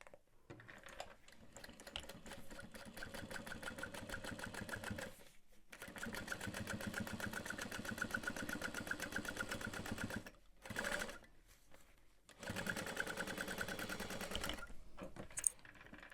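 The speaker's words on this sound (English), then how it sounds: "And I am going to top stitch through that handle." A sewing machine top-stitches through a tote bag handle at 3/8 inch, running in long steady bursts of rapid needle clatter with brief pauses between runs, close and alone.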